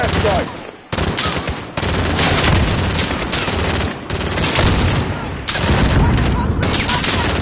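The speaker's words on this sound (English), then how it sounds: "that guy got shot twice and a hand grenade went off next to him" Dense combat in Modern Warfare: continuous loud gunfire with overlapping bursts and heavy thuds, including a grenade blast, filling the whole stretch with only brief gaps.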